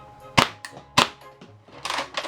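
A Nerf Elite 2.0 Flipshots Flip-32 blaster fires foam darts in sharp, snappy cracks, two distinct loud shots about half a second apart followed by mechanical clicking and rustling of the blaster being handled, with no talking.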